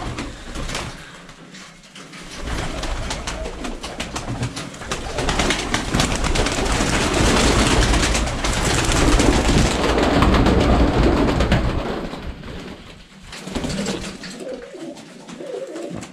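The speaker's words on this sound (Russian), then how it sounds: "Вот мои бакенчатники как сидят." Bakenchaty pigeons coo in a loft, their soft low calls mixed into a dense, continuous wash of wing flutter and shuffling that swells in the middle and eases toward the end.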